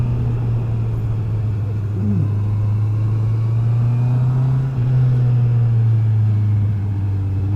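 A Honda CB650R motorcycle, a restricted 35 kW A2 version in black, rumbles steadily through its exhaust. It holds an even low drone throughout, loud and close, with no talk over it.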